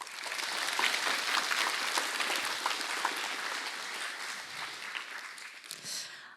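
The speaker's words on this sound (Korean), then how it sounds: "그럼 바로 주얼리 디자이너 김정주 씨의 강연을 힘찬 박수로 청해 보겠습니다." An audience at a lecture event claps to welcome a jewelry designer to the stage, a fairly faint but dense round of applause that gradually thins and tapers off at the end.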